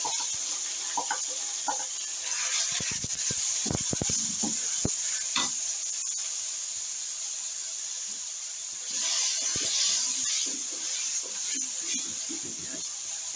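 Chopped medium-size onions softening in hot oil for an egg bhurji gravy give a continuous sizzling hiss, with occasional stirring scrapes and clatters close by and faint voices in the background.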